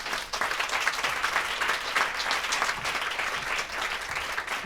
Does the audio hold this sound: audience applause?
yes